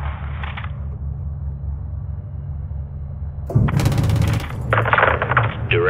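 A low steady aircraft drone gives way to loud rapid 25mm cannon bursts in Modern Warfare 2 gameplay, heard as a sharp rattling volley followed by shorter repeated bursts.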